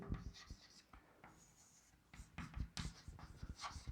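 Chalk or marker writing on a board during a chemistry class, heard as quiet, close scratchy strokes in short bursts, with pauses between them.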